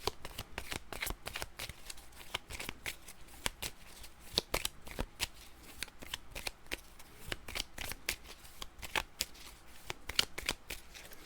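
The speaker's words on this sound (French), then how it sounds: "On va brasser mon deck de défausse pour être sûr." Close, repeated riffling and bridging of a discard deck of cards during a board game session of The 7th Continent, crisp papery bursts in quick irregular rhythm, heard alone without talk.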